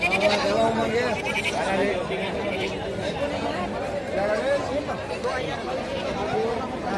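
Goats bleat repeatedly at a large goat market, their short wavering cries mixing with constant crowd chatter and nearby talking throughout.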